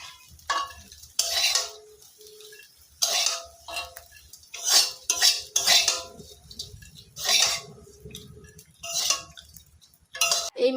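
Clattering dishes and a scraping spatula as fried kachki fish are lifted from the pan onto a plate, with irregular bursts of clinks and scrapes separated by short pauses, close and moderately loud.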